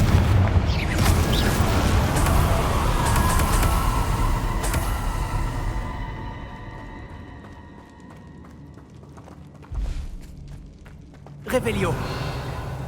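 Fiery explosion from the Confringo spell in the video game Hogwarts Legacy: a loud rumbling blast with heavy low boom that fades over several seconds, followed by smaller thumps, with voices and game sounds mixed in.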